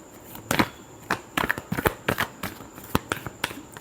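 Tarot cards being shuffled by hand, close and crisp, in a run of quick riffling bursts and flicks with short pauses between them.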